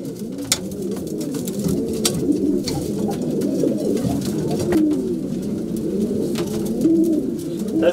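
Racing pigeons in a loft coo steadily and continuously for several seconds, a dense layered murmur of many birds close by with occasional wing flutters and clicks, no talking.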